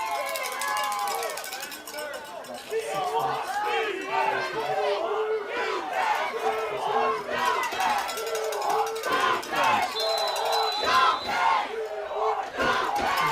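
Youth football crowd at an under-10 championship jamboree, steady loud shouting and cheering from many voices, with an announcer talking over the din throughout.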